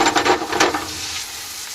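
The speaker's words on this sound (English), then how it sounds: "I chop up the mushrooms and straight in the butter." Chopped dryad saddle mushrooms dropped into hot butter, a burst of close crackling sizzle with a few scraping stir strokes in the first moments, then settling into a softer, even frying hiss.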